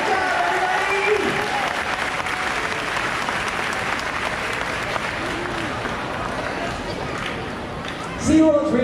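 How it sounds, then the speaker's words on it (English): Audience applause for volunteers at the SeaWorld Orlando orca show, a broad steady wash of clapping from a large outdoor crowd lasting several seconds, with a voice cutting in over it near the end. "Let's give our volunteers a huge round of applause."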